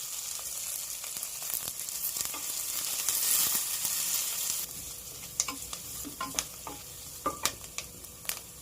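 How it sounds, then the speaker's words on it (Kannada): Onion, curry leaves and green chilli with mustard seeds in two spoons of oil sizzle steadily in a pan, a constant hiss with sharp crackles and pops and occasional stirring scrapes. No voices. "ಈಗ ಈರುಳ್ಳಿ ಫ್ರೈ ಆಗಿದೆ."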